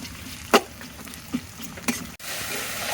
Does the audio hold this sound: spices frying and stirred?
yes